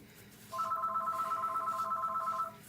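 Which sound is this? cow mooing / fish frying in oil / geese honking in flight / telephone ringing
telephone ringing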